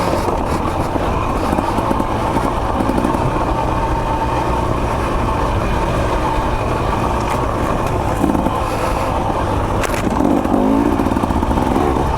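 A 2024 KTM 300 XC-W two-stroke dirt bike engine runs continuously on a rocky, choppy trail, with a loud, steady buzz and rough, wind-buffeted drone. No one speaks.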